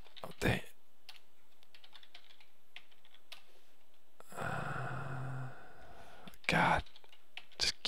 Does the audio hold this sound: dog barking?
no